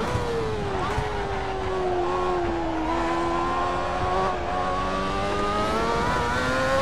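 A Formula 1 car at the Nürburgring GP circuit in Assetto Corsa, played on a Logitech G27 wheel, screams at high revs, its engine whine climbing and dipping with gear changes, loud and continuous throughout.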